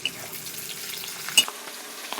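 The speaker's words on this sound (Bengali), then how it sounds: "পেঁয়াজটা এবার হালকা করে ভাজা হয়ে এসছে বলে ক্যাপসিকাম আর দেওয়া হচ্ছে লঙ্কা দিয়ে একটু নেড়ে নেবো" Onion, capsicum and green chili sizzle in hot oil in a pan for homemade chilli chicken, a close, steady frying crackle with one brief scrape of stirring.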